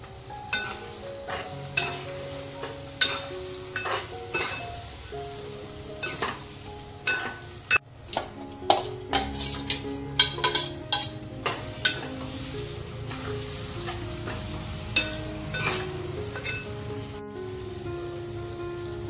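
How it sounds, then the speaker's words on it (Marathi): Prawns coated with turmeric, salt and lemon frying in a pan for kolambi biryani, a steady crackling sizzle with frequent close clicks and scrapes of a spoon stirring throughout. "आणि आता याच्यामध्ये हळद, मीठ आणि लिंबू लावलेली कोळंबी टाकते."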